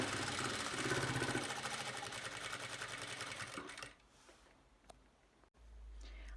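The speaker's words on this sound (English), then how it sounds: "I'm going to start stitching the placket on the edge of the fabric" A sewing machine runs a continuous stitch along a placket on the edge of a summer dress's fabric, a close, steady mechanical whir that cuts off partway through, leaving quiet handling sounds and a faint click.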